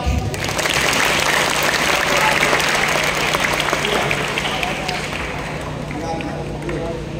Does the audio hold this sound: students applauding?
yes